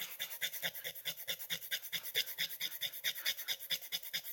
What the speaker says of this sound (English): Just scrub that eraser